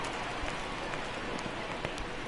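Steady rain falling at an outdoor baseball game, a dense even hiss of drops with occasional louder patters, continuous and moderately loud with no voices over it.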